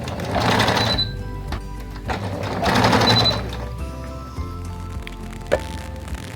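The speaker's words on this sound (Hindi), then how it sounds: "फिर रख के इसको थोड़ी सी सिलाई लगाऊंगी" A sewing machine stitches a girls' frock in two rapid whirring bursts separated by a pause, followed by quieter mechanical clicks and a sharp tap near the end, close and clear.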